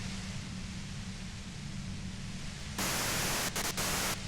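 Radio static hiss from Disco Elysium, a steady broadband white noise that jumps louder near the three-second mark and stutters in brief gaps toward the end, with no voices.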